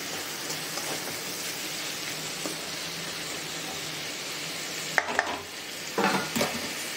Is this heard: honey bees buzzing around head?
no